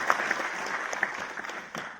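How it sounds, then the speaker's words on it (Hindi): Audience at a food processing startup event giving a burst of applause for a startup concept, a continuous crowd clapping heard from some distance, moderately loud and unbroken for two seconds. "मैं चाहता हूं एक बार जोरदार ताली हम लोग इस कंसेप्ट के लिए हम लोग बजाएं"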